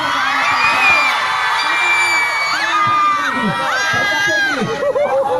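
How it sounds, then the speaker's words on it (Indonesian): A crowd shouts and cheers together, loud whoops and rising yells blending into a lively roar close by. "coba teriakan yang paling semangat"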